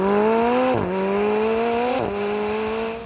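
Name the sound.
twin-turbo 4-litre V8 car engine in The Grand Tour video game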